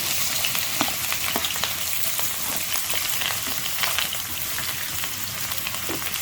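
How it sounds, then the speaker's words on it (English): One medium onion, finely chopped, sautés in a pan for a black chickpea curry, giving a steady close sizzle with occasional stirring clicks throughout and no voices. "So we're gonna add the fine chopped 1 medium onion,"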